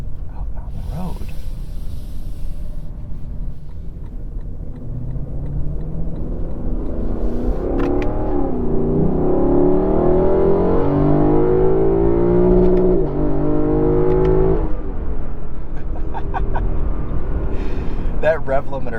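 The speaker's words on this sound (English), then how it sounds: "That rev limiter is just intoxicating." A 2021 Lexus LC 500 in manual mode, locked in first gear, revs hard up to its rev limiter on the road, the engine note rising and bouncing off the limiter while someone talks over it.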